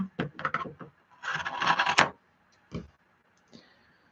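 Several crisp scissor snips and a longer burst of cutting through fabric on a sewn bag, followed by a couple of isolated clips, close by with no talking.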